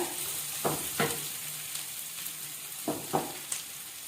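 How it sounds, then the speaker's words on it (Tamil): Ginger and garlic sauté in a pan of oil for kadai paneer masala, giving a soft, steady sizzle with a few quick scraping stirs scattered throughout, no voices. "ஒரு 2 நிமிஷம் இஞ்சியை பச்சை வாசனை போடுற மாதிரி வதக்கிக்கோங்க"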